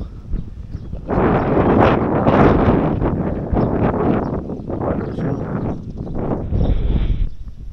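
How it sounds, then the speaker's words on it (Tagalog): Steady wind rushes and buffets the microphone for several seconds, rough and continuous, with gusts rising and falling. "Kaya dito tayo, mahangin dito."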